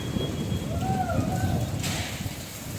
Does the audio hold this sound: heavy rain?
yes